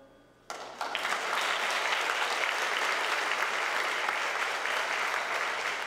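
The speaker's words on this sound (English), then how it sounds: "Can we just give them one more round of applause?" Applause bursts out suddenly and continues as steady, loud clapping from a large crowd at a middle school parent night, sustained without a break.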